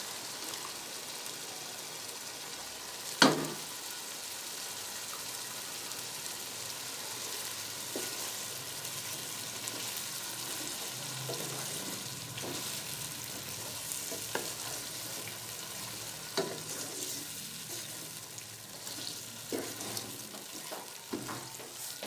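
Yogurt sizzling and frying with softened tomatoes in a pan while making chicken pulao, a steady crackling sizzle with occasional stirring scrapes and one sharp clink near the start, with no talking.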